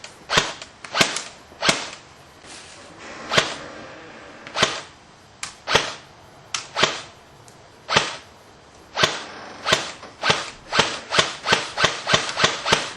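A Classic Army Sportline M15A4 airsoft rifle fires on semi-automatic, a series of sharp, close snapping shots, spaced irregularly at first and then quickening into a rapid run of single shots.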